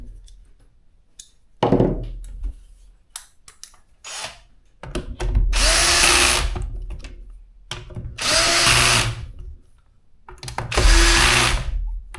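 A power drill drives screws into the rails of an electric scooter, three sustained whirring bursts of several seconds each, loud and close, with handling clicks and rattles in between and no talking.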